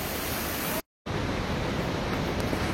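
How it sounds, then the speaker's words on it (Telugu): A waterfall dropping from a great height near the Nepal border road on the Kailash Mansarovar route: a dense, steady roar of rushing water, loud and unbroken apart from one brief cut to silence. "ఇంత పైనుంచి పడుతుంది చూడండి వాటర్ ఫాల్."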